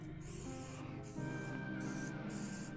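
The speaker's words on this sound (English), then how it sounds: "That's just some spray oil." A steady hiss of an aerosol spray in bursts, stopping and starting a few times over a low mechanical hum.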